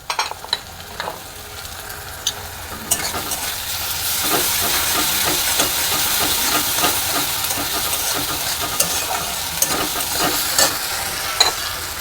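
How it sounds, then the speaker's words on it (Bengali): Onions fry in a pan for Bhetki fish cutlets, a continuous sizzle with repeated sharp spatula scrapes and clinks, growing denser and louder partway through. "আমার পেঁয়াজটা ভাজা হয়ে এসছে, আমি দিয়ে দেব 1 চামচ রসুন বাটা।"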